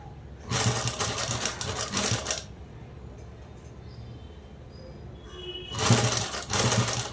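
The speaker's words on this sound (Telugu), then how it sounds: "పైపింగ్ మీద పడకుండా కుట్టు అనేది వేసేసుకోవాలి." A sewing machine stitching a blouse beside its piping runs in two steady, loud bursts of rapid mechanical whirring and clatter, close up, with a quieter gap between them.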